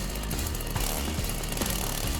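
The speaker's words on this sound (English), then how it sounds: "The air shook with the vicious roar of the engine." Chainsaw engine roaring in a visual novel game, a loud rough sustained mechanical snarl with rhythmic low knocks, close and unbroken by speech.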